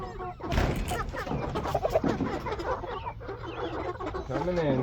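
Chickens in a chicken tractor clucking and murmuring close by, a busy flock chatter with a person speaking briefly over it.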